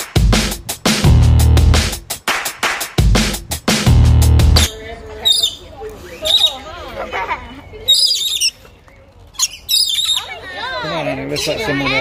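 At a zoo aviary in Kentucky, loud heavy thuds are followed by a string of sharp bird calls and chirps, with scattered close voices talking between them.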